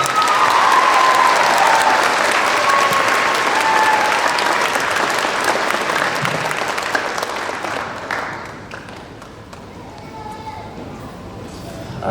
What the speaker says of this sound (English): How about another round of applause for our band and our superstars?